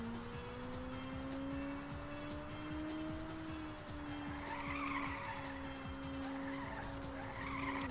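In the Ridge Racer video game, race car engines drone continuously with rising and falling pitch while tires squeal and skid through corners, all quite quiet and unbroken.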